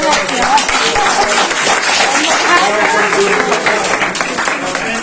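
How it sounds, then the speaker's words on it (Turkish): An audience at a veterans' meeting breaks into loud, dense applause for a man named Elmar, steady clapping from many hands throughout, with voices mixed into the crowd noise. "Elmar Bey'e bir özel bir alkış rica ediyoruz."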